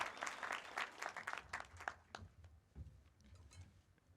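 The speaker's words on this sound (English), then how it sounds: "Give yourself a round of applause" Scattered, fairly faint clapping from a graduation ceremony audience at a sports club, bursts of claps thinning out over a few seconds, with low background murmur.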